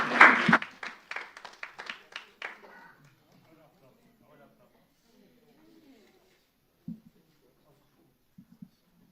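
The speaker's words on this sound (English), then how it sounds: "You would have noted that you got an applause." Applause from an audience at a company AGM for Sagicor Select Funds, a loud burst of many hands clapping that quickly thins out and fades, followed by long near-silence with a few faint knocks.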